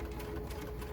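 Sewing machine stitching a fabric ninja-style face mask, a steady continuous motor hum with rapid even needle rhythm running throughout, close and moderately quiet.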